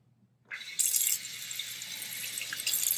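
Water runs steadily from a tap while a six-week-old AussieDoodle puppy is rinsed during a bath, starting abruptly and continuing as a close, even splashing flow.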